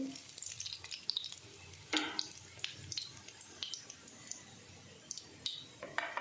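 Ginger, chillies and cumin frying in a pan, a quiet sizzle broken by sharp clinks and scrapes of a utensil stirring against the metal.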